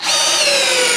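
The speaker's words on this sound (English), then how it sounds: "we want to drive 2 of these deck screws" A power drill drives deck screws into a 2x4 with a loud, close, steady high whine that holds for the full second without a pause.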